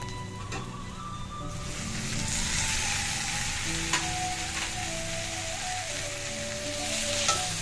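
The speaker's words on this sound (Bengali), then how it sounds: "যতক্ষণ না পেঁয়াজগুলো একটু ভাজা ভাজা হয়ে আসছে ততক্ষণ ধরে কিছুক্ষণ নাড়াচাড়া করব" Chopped onions and tomatoes sizzle in a hot pan and are stirred and scraped now and then with a spatula. The frying is close and continuous, and nobody speaks.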